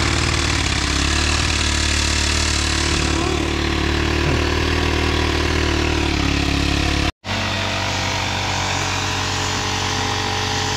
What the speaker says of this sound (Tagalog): Makina yung motor ito.